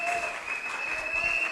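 A church congregation claps steadily through a Sunday worship service, a dense, even patter of applause filling the room.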